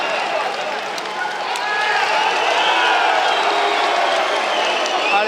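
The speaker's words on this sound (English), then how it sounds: "Alexander getting some attention from the crowd" A crowd cheers and roars at a jiu-jitsu match, swelling louder partway through, with whoops and scattered clapping under commentator talk.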